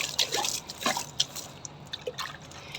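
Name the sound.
water poured over potted tulsi plants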